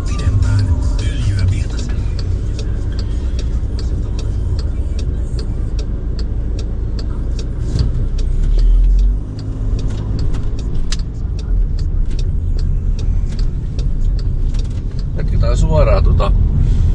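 City traffic in Jyväskylä flows past with buses and cars rumbling by on the street, a continuous engine wash with ticking clicks, heard from nearby while someone talks over it.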